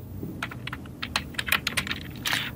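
A computer keyboard is tapped to type a preset name in Photoshop, giving a quick run of crisp, close key clicks at an uneven rhythm, with no one speaking.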